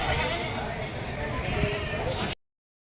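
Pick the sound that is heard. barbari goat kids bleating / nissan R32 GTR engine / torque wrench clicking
barbari goat kids bleating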